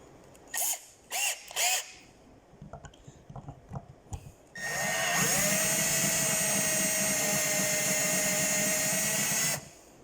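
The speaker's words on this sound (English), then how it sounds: "I'm just drilling into the bottom of the bridge" A power drill bores into the underside of the bridge on an 8-string conversion of a Hannah Montana toy guitar, a steady whining run of about five seconds after a few short bursts and clicks.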